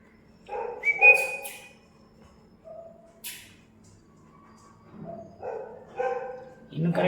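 Day-old-weeks Labrador retriever puppies, seventeen days old, play-fighting with short high yips and squeaky little barks in scattered bursts, close by in a quiet room.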